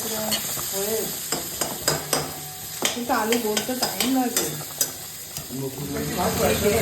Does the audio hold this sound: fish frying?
yes